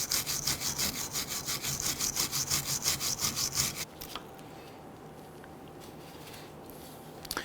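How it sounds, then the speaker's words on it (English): A flat file scraping back and forth over the brake slider contact surface of a 2011-2017 Nissan Quest rear brake, about a dozen rhythmic close strokes, then stopping abruptly and leaving a quiet workshop. "it's okay to use a flat file to go ahead and clean up that surface."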